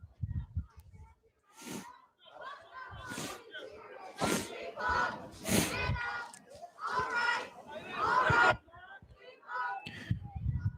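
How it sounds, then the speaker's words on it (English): Fox Lane cheerleaders cheer at a varsity football game against John Jay East Fishkill, with rhythmic shouted chants in bursts, coming through close crowd noise and nearby talk. "Don't know if you can hear the Fox Lane cheerleaders here in front of us doing a nice job cheering on the Fox Lane team"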